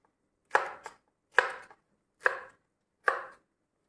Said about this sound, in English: This is how you have to cut the okra.